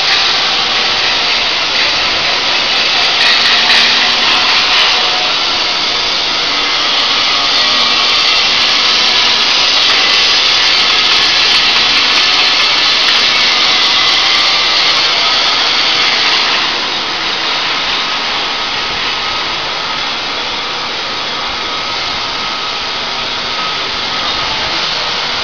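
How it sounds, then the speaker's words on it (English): A CNC mold-making machine runs continuously in a factory that makes deep-drawn parts. Its loud, steady broadband whir and hiss holds for the whole stretch and eases slightly in level partway through. "I introduce our CNC"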